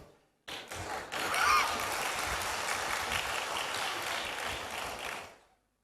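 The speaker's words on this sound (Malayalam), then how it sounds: "ഈ കൈയടിച്ചവർ മാത്രം തൃശ്ശൂർക്കാരുള്ളൂ ഇപ്പം എനിക്ക് മനസ്സിലായി." Applause from an audience at a church gathering addressed by Major Archbishop Mar Raphael Thattil: a dense, steady burst of clapping that starts abruptly, holds at an even level for about five seconds, then fades out.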